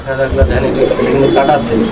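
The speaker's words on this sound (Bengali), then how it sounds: "এটা নর কবুতরটা" Close, loud cooing of a male fancy pigeon in low throaty rolls, with a person talking over it.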